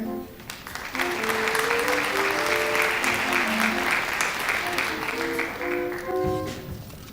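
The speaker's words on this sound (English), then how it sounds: "Let's give a round of applause for Miss Bailey Jadell and Mr. Matthew Meyer." An audience applauds honored students Miss Bailey Jadell and Mr. Matthew Meyer at a school senior recognition program, a steady, dense round of clapping lasting several seconds with a few voices speaking over it.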